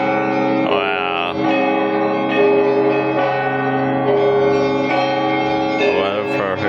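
Church bells ringing inside the Moscow Kremlin, loud and near, with overlapping sustained peals and repeated strikes that blend into a rich, ringing wash throughout.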